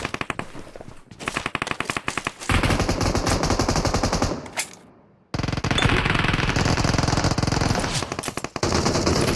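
Loud, rapid automatic gunfire in PUBG Mobile, long sustained bursts of rattling shots with a brief pause in the middle, close and dominant.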